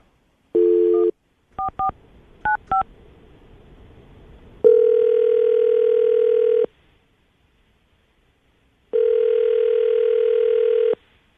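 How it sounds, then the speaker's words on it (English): A landline dial tone gives way to a short run of touch-tone dialing beeps, then two long, steady ringback tones sound with a pause between them, clear and alone, while a call is placed during a morning radio show. "I'm going to call her right now."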